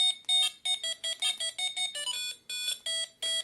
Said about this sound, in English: you can see it does not disable the alarm